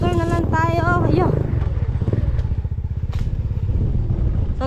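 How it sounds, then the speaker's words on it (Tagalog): Motorcycle engine running steadily through a ride on a rural road in Bucana, with a low rumbling drone throughout and voices talking over it at the start. "Magmumotor na lang tayo."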